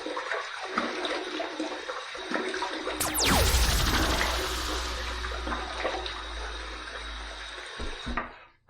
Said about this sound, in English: Let's wet the face and let's get to the shave.